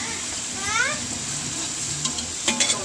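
Chicken frying in masala in a pot for biryani gives a steady close sizzle, stirred now and then, with a few sharp clinks near the end.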